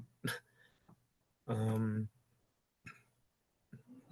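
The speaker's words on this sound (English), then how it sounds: "clear my throat" Several throat-clearing rasps and a longer harsh throat sound, spaced apart with quiet gaps, close to the mic.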